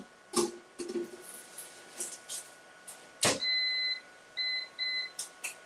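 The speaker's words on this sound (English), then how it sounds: "Just gonna put this in the air fryer so it can get kind of toasty while we pack up." An air fryer toasting food gives a clear electronic beep pattern: one longer two-tone beep, then a short pair, over quiet kitchen background with a few light knocks.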